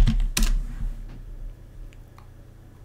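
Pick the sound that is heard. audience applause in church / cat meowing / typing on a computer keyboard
typing on a computer keyboard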